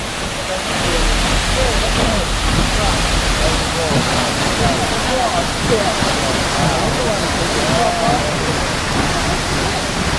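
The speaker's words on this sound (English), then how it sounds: "this waterfall here is one of the more permanent ones" Ferry Falls, a permanent waterfall at Milford Sound, roars as a loud, steady broadband rush of falling water, continuous and close throughout.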